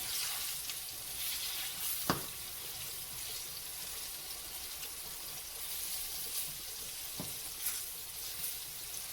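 Pork pieces for sweet and sour pork fry in hot oil with a steady, fairly quiet bubbling sizzle, punctuated by two brief utensil taps, with no one speaking.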